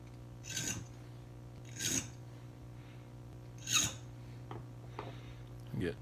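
A key blank being filed during lock impressioning, with several short rasping swipes spaced apart over a steady low hum, close and fairly quiet.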